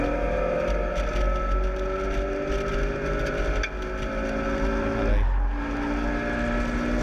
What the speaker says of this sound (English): onto the brakes, in towards the Robert chicane comes the Motion Motorsport